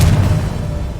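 A blasting Confringo spell exploding in Hogwarts Legacy, a deep sustained boom that rumbles low and heavy for about a second without fading much.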